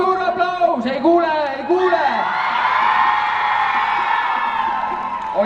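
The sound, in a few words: audience applause and cheering at breakdance battle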